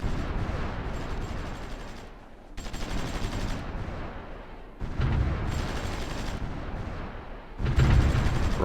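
Garrison artillery bombardment in the wargame Supreme Ruler Ultimate rumbles as dense, continuous volleys of booming fire. It comes in loud sustained bursts separated by brief quieter gaps, with no talking.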